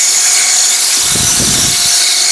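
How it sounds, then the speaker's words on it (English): A power tool polishes an already-finished dovetailed wooden box at slow speed, a steady high whine with a brief low rumbling pass about a second long in the middle. "just giving that a really good polish, peeling off all of the raised grain."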